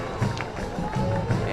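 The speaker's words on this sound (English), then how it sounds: "The roar of the crowd there says it all as Kolka piles in" A football crowd roars and cheers after a Blue Devils touchdown in an LTU vs Siena Heights game. The sustained, swelling wash of voices fills the stands, with a faint voice speaking over it.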